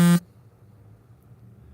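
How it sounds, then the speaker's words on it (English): A mobile phone buzzes with incoming notifications: one short, loud vibrating buzz at the very start, followed by quiet low background hum. "you're gonna hear it buzzing"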